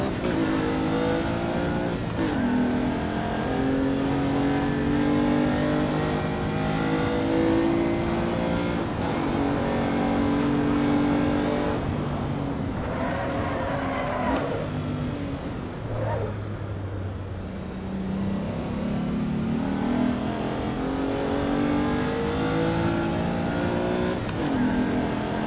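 A race car engine in Assetto Corsa EVO drones and revs continuously, rising and falling in pitch through gear changes. It stays loud and steady throughout, with brief talk at times.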